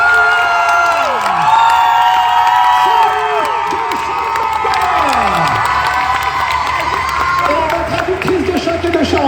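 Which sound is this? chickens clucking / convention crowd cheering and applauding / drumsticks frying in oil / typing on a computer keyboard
convention crowd cheering and applauding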